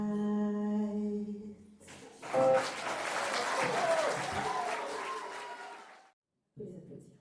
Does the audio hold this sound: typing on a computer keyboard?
no